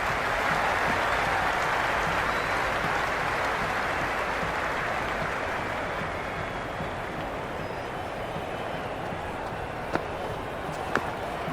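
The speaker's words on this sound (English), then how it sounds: "Will you listen to that crowd? They are loving this." Crowd noise in the Cricket 26 video game during an India vs Pakistan T20 match: a broad, steady roar of applause and cheering that fades slightly, with a couple of sharp knocks near the end.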